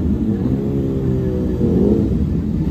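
A heavy motorcycle engine rumbles nearby at a steady idle, deep and loud, with a slight rise in revs midway.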